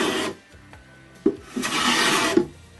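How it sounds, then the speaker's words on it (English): End plane shaving the bottoms and tops of wooden drawers, giving several close, rough rasping strokes with short pauses between them, one long pass near the end. "I clean the bottoms and the top of the drawers with an end plane."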